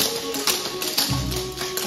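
Tap dance steps at a showcase performance, a rapid run of crisp taps and scuffs on a hard floor, close and clear over a faint background of music.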